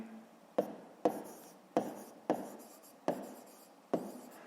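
A pen writes on paper in six distinct strokes, each a short scratchy burst with a sharp onset, close and quiet, with nothing else audible.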